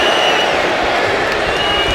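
A wrestling arena crowd at a WWE SmackDown show roars and cheers without a break, a loud, dense wall of voices.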